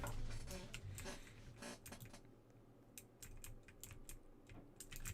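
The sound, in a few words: pressing T key on computer keyboard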